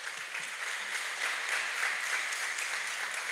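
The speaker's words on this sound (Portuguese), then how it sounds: "dá para aplaudir Jesus por isso" A church congregation applauds in a steady, moderately distant wash of clapping that holds evenly for a few seconds.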